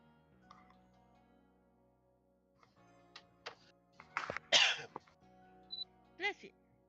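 Several short, harsh coughs and throat-clearing bursts, the loudest clustered near the end, over a quiet room with faint background tones.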